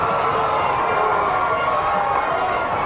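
Stadium crowd roaring and cheering after a try in a rugby league Emerging Nations World Championship cup final between Niue and Malta, a loud, steady wash of massed voices filling the whole stretch.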